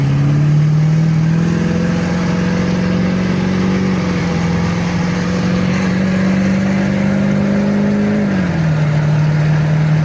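A race mower powered by a stock Duramax engine pulls hard on a closed course, its loud engine drone climbing steadily through gears with brief dips at each shift.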